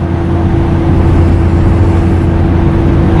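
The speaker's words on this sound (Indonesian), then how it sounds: "Kalian dengarkan ini suara raungan mesin dan kekedapan kabin ini, road noise-nya." Inside the cabin of a Toyota Kijang LGX driving on a city toll road, the engine's loud steady drone blends with constant road noise, unbroken and without speech.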